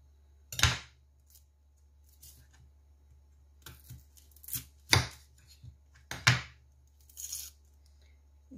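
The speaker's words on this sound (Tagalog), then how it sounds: "Ngayon naman, hiwain natin ang sibuyas." An onion being chopped finely with a knife, heard as a series of sharp, close cuts on a board in irregular bursts with quiet gaps between them.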